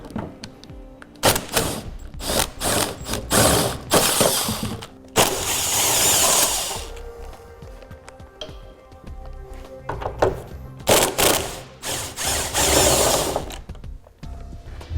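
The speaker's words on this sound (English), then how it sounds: "for video purposes, we're going to use the swivel because it'll speed it up" Swivel socket ratchet turning bolts while mounting a Curt trailer hitch receiver on a 2003 Jeep Grand Cherokee: close, loud bursts of rapid ratcheting clicks and metallic clunks, repeated in several runs with short pauses, no talk.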